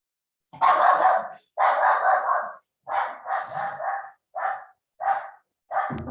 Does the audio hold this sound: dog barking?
yes